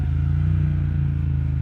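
A 2020 Triumph Speed Twin parallel-twin motorcycle with a Vance & Hines exhaust idles close by, a deep, steady, throbbing rumble with no talk over it.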